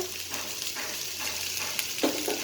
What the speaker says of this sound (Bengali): চিনিটা দিয়ে একটু নাড়াচাড়া করবেন